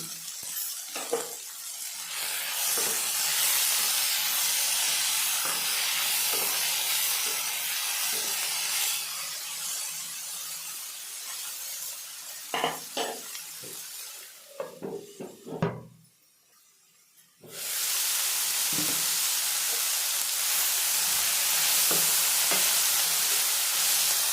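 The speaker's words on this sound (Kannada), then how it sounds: "ಟೊಮಾಟೊ ಮುಕ್ಕಾಲು ಭಾಗದಷ್ಟು ಫ್ರೈ ಆಗಿದೆ." Tomatoes with salt frying in a pan for a sprouted green gram and egg dish, giving a steady close hiss and sizzle with occasional stirring scrapes, a brief drop to near quiet, then loud continuous sizzling again.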